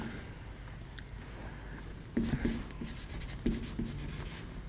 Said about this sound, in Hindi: तो थोड़ा सा इसका परिभाषा लिखते हैं।